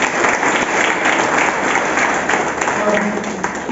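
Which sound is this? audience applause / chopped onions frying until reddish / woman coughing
audience applause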